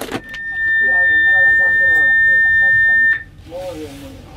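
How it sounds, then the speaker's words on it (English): A cruise ship's general emergency alarm signal sounds as one loud steady high tone held for about three seconds before stopping abruptly, with people talking faintly underneath and afterward. "That was our general emergency alarm signal."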